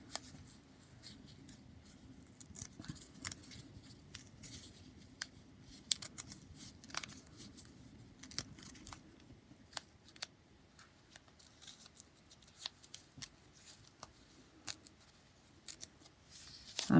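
Foundation paper being torn off the back of a sewn butterfly quilt block makes quiet, close crinkling and ripping sounds in irregular bursts with small pauses between, no talking.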